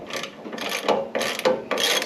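Ratchet wrench undoing the steering pitman arm nut on a 1985 Toyota LandCruiser, a close series of rapid metallic clicking bursts in four quick strokes with brief pauses between, no talk.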